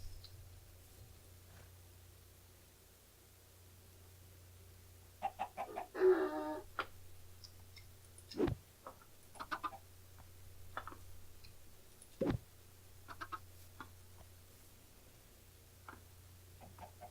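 Chickens clucking in a video game, a few soft scattered clucks and ticks with one short burst, otherwise quiet against a low steady hum.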